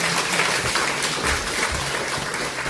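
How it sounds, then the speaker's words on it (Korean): Dense, continuous applause from an audience at a book launch celebration with a saxophone concert fills the hall, loud and even for a few seconds with no talking. "다시 한번 큰 박수 부탁드립니다."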